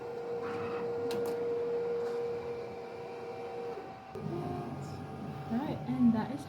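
A direct-to-garment printer runs steadily while printing a t-shirt, a sustained mechanical hum with a tonal whine, shifting near the end as the carriage moves and other machine noises rise.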